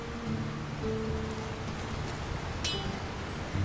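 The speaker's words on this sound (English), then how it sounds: "Who could live in a town where it's always raining?" Steady rain falls in a fantasy action game set in a town where it is always raining, a constant soft wash of drops with a faint brief chime partway through and no talking.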